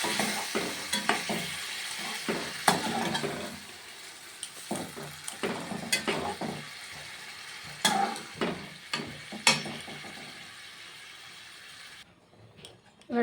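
Chicken in a yogurt marinade is stirred in a pan over the gas, with soft sizzling beneath repeated scraping and clacking spatula strokes in an uneven rhythm, close by, fading out near the end.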